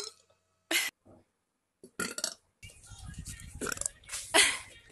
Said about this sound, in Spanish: No puedo cantar con eructos, es muy complicado.